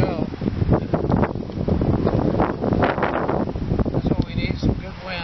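Gusty wind blows outdoors around a campfire on a windy day in the Pacific Northwest, a steady rushing roar with buffeting against the microphone, while someone talks over it.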